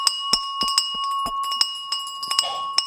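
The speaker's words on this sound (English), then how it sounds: "shall we ring that bell?" Stock exchange opening bell struck repeatedly in quick, uneven rings, each clear metallic tone ringing bright and close.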